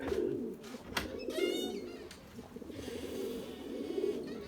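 An Erzurum white pigeon coos in low, rolling calls near at hand, with a few brief fluttering and scuffing sounds in between.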